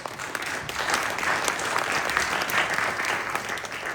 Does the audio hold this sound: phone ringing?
no